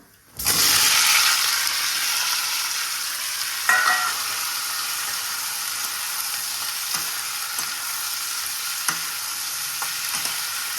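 Potatoes hit hot oil in a pan for Bengali aloo chorchori tempered with cumin or panch phoron, bursting into a loud, steady sizzle that carries on throughout, with occasional clinks and scrapes of stirring.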